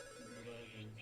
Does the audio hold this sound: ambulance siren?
no